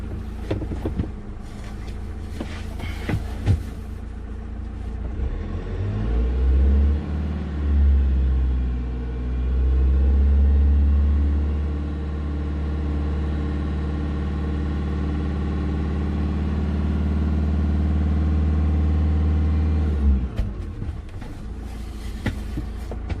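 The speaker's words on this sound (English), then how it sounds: "engine up to 2000 RPM and its alternator, which is 150 amp alternator, produces maximum available output" A car engine revs up to about 2000 RPM while driving a 150 amp alternator charging lithium batteries, a close, loud, steady rumbling drone that rises, holds for several seconds, then drops back to a lower idle.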